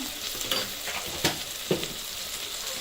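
Coriander seeds sizzle and fry in a pan as spices go in for a chicken curry, a steady crackling hiss broken by a few sharp stirring clinks, close and alone.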